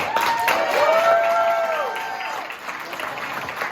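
Wedding guests at the Beechwood Hotel in Worcester, Massachusetts clap and cheer together in a dense burst of applause that rises quickly and then fades; high tones ring through the crowd noise.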